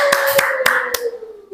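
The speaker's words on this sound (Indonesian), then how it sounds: "Ya, tepuk tangan" A classroom group claps hands in a short burst of about four sharp, close claps over a tonal background, fading toward the end.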